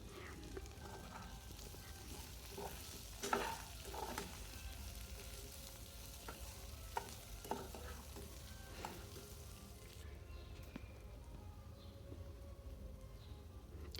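Vegetables and sprouted green gram fry in a pan for sambar, giving a quiet, steady sizzle with irregular spoon scrapes and taps during stirring; no one speaks.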